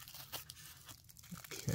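Tape peeling off the small trunk of a 1/64 Ferrari F40 model car in Gulf livery, heard as quiet tearing and crinkling with a louder rip near the end.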